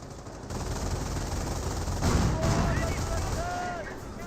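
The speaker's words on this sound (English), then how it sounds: "PaK-38 firing away." Anti-tank gun fire from a PaK-38 in Company of Heroes, heavy booming shots and battle noise filling a dense, continuous wartime soundscape, with a voice talking over it.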